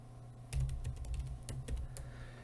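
Keys being typed on a computer keyboard while entering a transpose formula in an Excel spreadsheet, a close run of soft clicks and taps over a low steady hum, with no talking.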